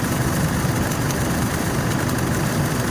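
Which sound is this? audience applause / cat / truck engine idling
truck engine idling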